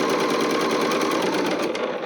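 A sewing machine stitches a fabric project bag, running nearby in a continuous, even whirring drone with a fast needle rhythm and no speech.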